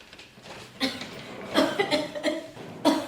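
An elderly mother coughing indoors: several short, raspy coughs in quick bursts, fairly close and moderately loud, spaced out over a quiet room.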